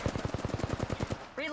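Video game gunfire rattles out as a rapid, even burst of about a dozen shots, each one punchy and close, before a voice comes in at the end.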